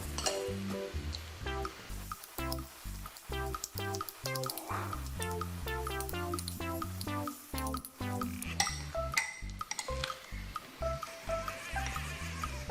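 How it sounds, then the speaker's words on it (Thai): Pork filling being mixed with glass noodles in a bowl for stuffed bitter gourd soup, with repeated close clinks and taps of a utensil on the bowl alongside wet squishing and scraping in an uneven rhythm. "จากนั้นเราก็จะใส่วุ้นเส้นลงไปค่ะ คลุกเคล้าให้เข้ากันดีอีกครั้งหนึ่งค่ะ"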